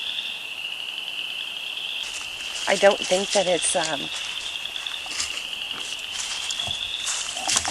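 Steady high-pitched chorus of frogs trilling at night, continuous throughout, with a few words of speech partway through.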